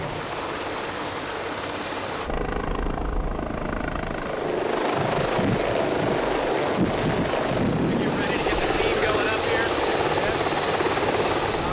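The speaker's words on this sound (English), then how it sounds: "LifeEvac is a rapid response aeromedical helicopter." A loud air ambulance helicopter with rotor thumping and engine roar mixed with heavy wind noise on the microphone, continuous and close.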